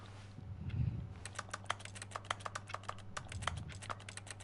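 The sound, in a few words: typing on a computer keyboard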